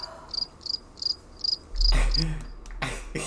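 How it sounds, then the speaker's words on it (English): Crickets chirp in regular, evenly spaced pulses for the first half, then a burst of louder noise and low rumble partly masks the last few chirps. "Not the crickets."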